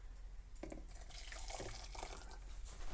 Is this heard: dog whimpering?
no